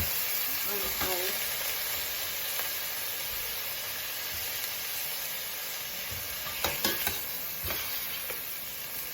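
Pre-boiled pork, just under half a kilo, stirred in a saucepan for tinola: faint steady sizzle and hiss with a few scraping spoon strokes, louder clatters near the end.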